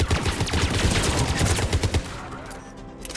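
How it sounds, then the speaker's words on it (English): Rapid turret gunfire in Mass Effect 3 rattles loudly in dense bursts for about two seconds, then drops away to quieter background noise. "We have to take out those turrets."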